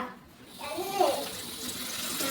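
Water is poured to fill a swimming pool, a close splashing gush that builds after a soft opening, with a brief voice heard over the flow.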